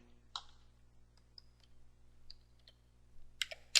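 Typing on a computer keyboard at a terminal comes through as a few sparse, soft key clicks, with a small cluster of quicker taps at the end over a quiet hum.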